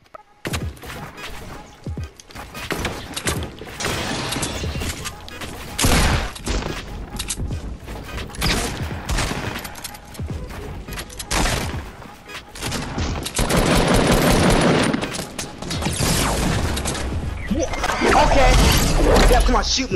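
Gunfire in the video game Fortnite, dense bursts of rapid shots and impacts throughout with short gaps, loud and close, with a voice talking over the action at times.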